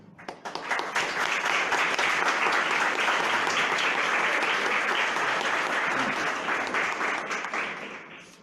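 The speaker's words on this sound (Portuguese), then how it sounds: "o aplauso já indicou" Sustained audience applause at a seminar on political awareness and judicial activism, following a speaker's closing thanks; dense, steady clapping from a full room that swells quickly and tapers off near the end.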